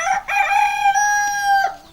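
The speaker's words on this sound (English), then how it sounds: "At the dawn of a new day for the official celebration, while some of the cock crows," A rooster crows once at dawn during the Adim New Yam Festival, a long, loud, clear cock-a-doodle-doo held for well over a second with no voices over it.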